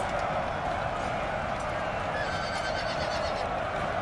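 Horses neigh amid a dense, continuous battlefield din in Napoleon: Total War 3, steady and loud throughout, with no clear single whinny standing out from the crowd of noise.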